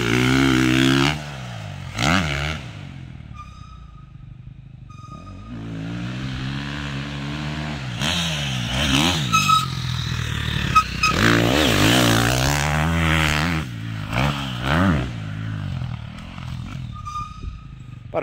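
A motorcycle running practice laps on a race track, its engine rising and falling through gear changes as it passes, loud and continuous for the whole stretch with no speech.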